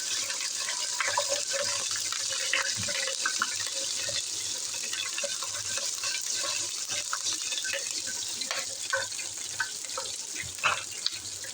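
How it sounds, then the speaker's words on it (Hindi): Chopped garlic frying lightly in oil in a pan while mutton bhindi gosht is prepared, giving a steady, close hissing sizzle that runs without a break and with no talking. "ये इसमें लहसुन डाल रही हूँ, चॉप किया हुआ। इसको हल्का सा फ्राई कर लेती हूँ।"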